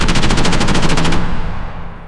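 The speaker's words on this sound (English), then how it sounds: "Then bullets tore through the tunnel." Rapid automatic gunfire rips through a tunnel in a loud, dense burst of evenly spaced shots lasting about a second, then decays into a reverberant rumble.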